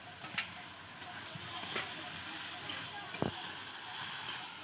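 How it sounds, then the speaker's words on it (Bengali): Okra fried in a mustard paste masala sizzles steadily in a pan, with soft spatula scrapes and stirring strokes coming up now and then and no clear talking. "মশলাটাকে ভালো করে কষিয়ে নিয়ে এবার ভেজে রাখা ঢেঁড়সটা আমি দিয়ে দিচ্ছি মশলার উপরে।"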